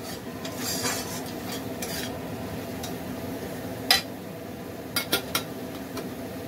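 Spices with ground coriander frying in a pan for a Bengali vegetarian dish, a low steady sizzle with a metal spoon clinking against the pan several times, close and alone.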